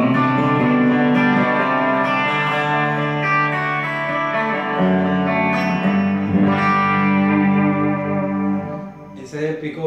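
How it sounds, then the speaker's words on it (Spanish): A Carvin TLB-60 bass with Balance Navarro pickups, played on the bridge pickup through a clean tone with reverb and delay, ringing out in sustained, echoing notes and chords that fade near the end. "Vas a ver si yo pongo aquí un clean, con un poquito de reverb y delay."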